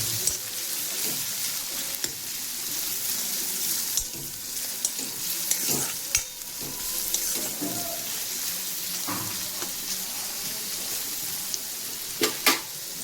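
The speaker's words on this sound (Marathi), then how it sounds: "कांदा आपण चांगला फ्राय करून घेणार आहोत गुलाबी रंगावर" Chopped onion fries with curry leaves in a pan for a rasa matki curry, a steady close sizzle with occasional stirring scrapes and clinks.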